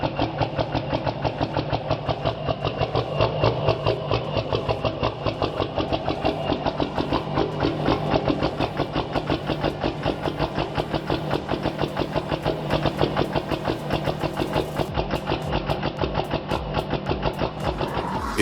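A 1999 Cummins 24-valve diesel engine tuned with a Quadzilla Adrenaline module runs with a loud, rapid, steady clatter and throbbing exhaust pulse, heard close and continuous without talk.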